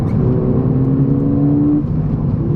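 A Ford Fiesta ST engine's intake roars steadily with a rising, droning tone, heard from inside the cabin as the revs climb on a downshift and then settle.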